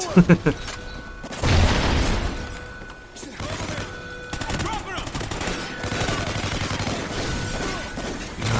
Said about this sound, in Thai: เฮ้ย ระเบิด ระเบิด